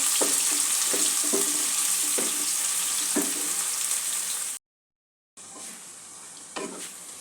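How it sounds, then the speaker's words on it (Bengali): Onions fry in a pan for a mutton curry with potatoes, a steady loud sizzle broken by periodic stirring scrapes, a brief silent gap, then the sizzling resumes alone. "পেঁয়াজটা আমি 2-3 মিনিট ভেজে নিয়েছি"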